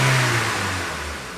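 A Honda Civic 1.8 VTEC engine with a rough-running fault revs briefly, starting loud and close, then settling toward a slightly uneven idle, with no talking.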